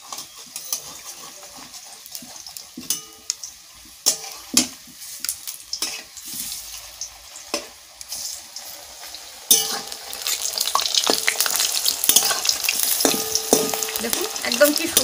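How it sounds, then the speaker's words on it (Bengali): Onion chop patties shallow-frying in a little oil, steady sizzling with scattered clicks and scrapes as they are turned, growing louder and denser in the second half, close by with no talk. "এক পিঠ ভাজা হয়ে গেছে, এবার উল্টে দেব।"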